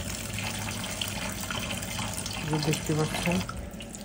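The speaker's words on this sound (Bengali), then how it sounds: "সুন্দর করে ধুয়ে নিয়েছি, একদম ক্লিন। লেবুর রস দিয়ে ধোয়া হয়েছে।" Running tap water splashes steadily over taki fish being washed in a sink, a continuous broadband rush with a speaking voice briefly over it near the end.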